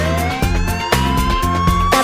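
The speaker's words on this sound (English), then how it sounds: "The police car siren goes woo, woo, woo." A police car siren in a children's nursery-rhyme cartoon, wailing loudly and steadily as it rises in pitch, backed by a rhythmic thumping beat from the accompanying music.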